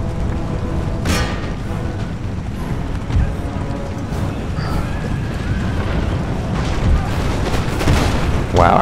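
Musket volleys ring out across an Empire: Total War battlefield, a continuous dense rumble of distant booms and crackling shots that blends into a loud, unbroken wash of battle noise.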